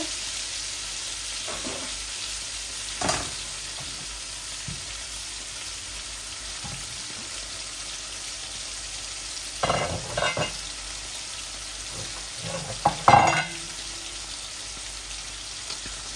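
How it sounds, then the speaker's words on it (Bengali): Spices frying in a pan with a faint, steady sizzle, broken by a few sharp scrapes and knocks of a stirring spoon, close and quiet overall. "এই আমার মশলাগুলা ভাজা হয়ে গেছে"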